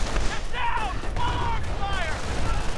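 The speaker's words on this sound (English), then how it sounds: "And the flak blasting away as well." Flak guns fire in a WWII real-time strategy game, a dense rumbling barrage of blasts under a steady wash of battle noise, with rising and falling whistling tones overhead and someone talking throughout.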